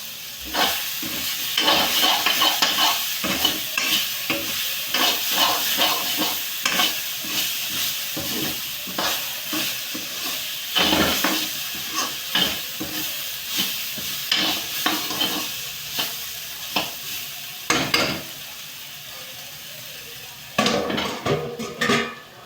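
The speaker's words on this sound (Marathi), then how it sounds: "एक वेळ मिक्स करून घेतलं की अजून चमच्याने फिरवून घ्यायचे. म्हणजे खाली लागलं असलं काही तर आपल्याला काढून घेता येते." A spoon stirs teasel gourd (katval) bhaji in a pan, giving repeated close scraping and clinking strokes over a steady sizzle of frying, with no talking.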